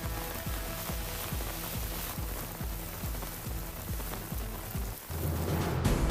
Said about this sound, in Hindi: मुंबई में सुबह सुबह जमकर बारिश हुई